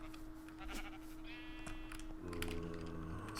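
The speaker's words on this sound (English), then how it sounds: "Lots of sheep over here, though." Sheep bleating in the Minecraft modpack Omnifactory, two or three short wavering bleats over quiet keyboard typing, faint and close.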